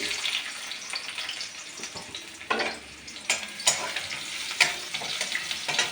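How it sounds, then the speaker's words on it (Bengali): Chopped onion frying in hot oil in a pan, sizzling steadily up close with occasional sharper pops and stirring scrapes. "পেঁয়াজটা লাল লাল করে ভাজা হয়ে গেলে"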